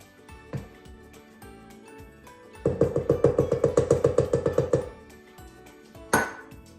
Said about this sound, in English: going to mix all of the ingredients together except the chocolate chips